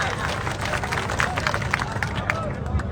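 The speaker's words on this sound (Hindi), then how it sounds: "मैं चाहूंगा पटना से एक बार जोरदार तालियों से उनका स्वागत किया जाए।" Crowd at a political rally in Patna clapping loudly to welcome guests, dense rapid handclaps with crowd murmur and voices mixed in throughout.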